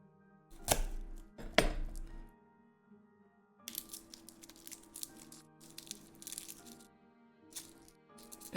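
Knife chopping garlic on a cutting board in a home kitchen while making crockpot chili: two loud, close thuds early on, then a run of quieter, irregular cuts and rattles.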